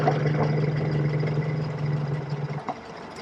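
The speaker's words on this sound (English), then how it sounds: "let's have a listen to how it sounds. Remember, we have got that 1275 under the bonnet" Austin Healey Sprite MK4 with a 1275 engine idling close by, a steady low throbbing rumble that cuts off abruptly near the end.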